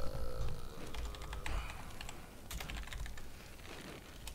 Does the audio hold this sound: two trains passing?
no